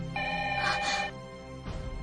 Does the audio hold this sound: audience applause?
no